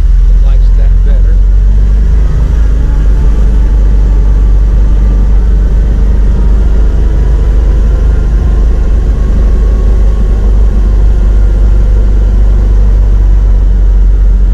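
A Kawasaki Mule utility vehicle in four-wheel drive and low range grinds up a gravel climb, its engine a loud, steady low drone with crunching rumble throughout and a voice speaking over it.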